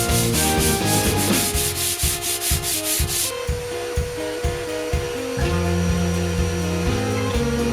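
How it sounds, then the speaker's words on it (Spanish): Sanding of filler putty on a small terrace being remodeled, heard as a steady abrasive rubbing in rhythmic back-and-forth strokes, close and fairly loud, with a buzzing hum running underneath and no talking. "vamos a lijarlo un poquito y como quede es como va a quedar"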